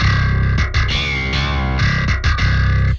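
A compressed bass track played solo from a mix, sounding thick and gritty with a slightly distorted, effected tone, heard as a steady, loud line with brief rhythmic dips over three seconds.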